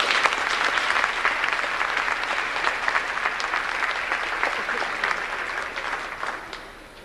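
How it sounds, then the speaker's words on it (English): A high school awards ceremony audience gives a steady round of applause, dense and even for several seconds before it tapers off near the end, with no speech over it. "Let's give them a round of applause."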